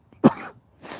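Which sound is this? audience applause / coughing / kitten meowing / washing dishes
coughing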